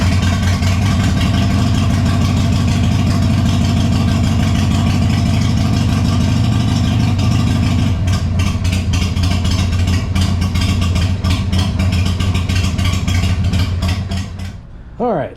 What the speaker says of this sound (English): the bike ran and idled for about 5 minutes